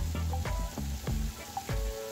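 Vegetables and chicken for fajita quesadillas sizzle in a pan, a loud close frying hiss broken by repeated rhythmic stirring scrapes and clacks, with no voices.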